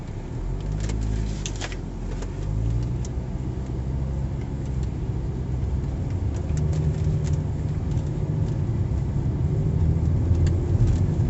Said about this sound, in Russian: Дорога не очень хорошая, еду потихонечку, чтобы камера не завалилась.